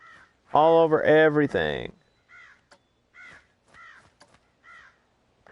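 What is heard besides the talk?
crows cawing in video game Planet Coaster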